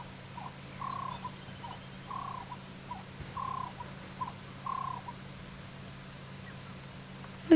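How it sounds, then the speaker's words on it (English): A turtle dove calls on a sunrise safari drive, a series of soft, evenly spaced cooing phrases repeating at a moderate distance over a steady low engine hum. "Turtle dove calling again."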